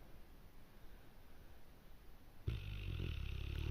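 Someone sleeping and snoring: faint, quiet breathing noise at first, then a louder, rougher, rumbling snore-like drone that starts abruptly and carries on to the end.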